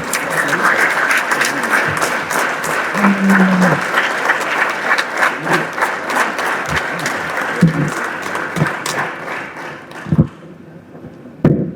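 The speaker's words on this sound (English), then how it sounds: "A huge round of applause to Vinod" A political event crowd in Chennai claps continuously for a Central Chennai candidate, loud dense applause with occasional shouts and thuds, thinning out near the end.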